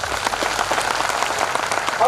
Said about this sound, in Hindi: आप लोगों को आनंद आ रहा हो तो ताली बजा दीजिए